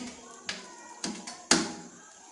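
Metal lid set down on a cooking pot of desi chicken pulao with soaked rice, giving a few sharp clanks, the loudest last, close by in a quiet kitchen.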